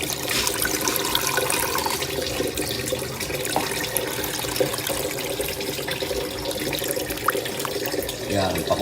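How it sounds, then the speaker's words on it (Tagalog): Water runs in a steady, splashing stream into a container, close and continuous, with faint background noise. "Lagyan ko ng tubig."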